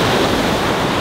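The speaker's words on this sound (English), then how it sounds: "This is about as much wave as you get." Small Atlantic waves wash onto the beach at Hilton Head Island, South Carolina, a steady, close hiss of surf mixed with wind noise on the microphone and no voices.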